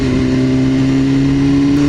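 A Lamborghini passing on the road, with a loud, close engine revving in a strong steady drone throughout the short moment; no one talks.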